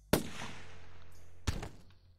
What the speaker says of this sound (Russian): Он начал стрельбу, попал, отлично.